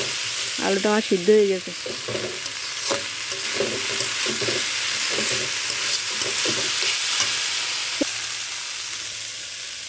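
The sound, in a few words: stirring potatoes frying with onions in a pan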